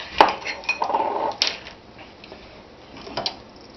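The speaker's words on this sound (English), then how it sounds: "Stir that in there real good." A spoon stirring spices into Cincinnati chili in a pot: a few sharp clinks and scrapes against the pot, then a quieter stretch with soft scraping, all close and without talk.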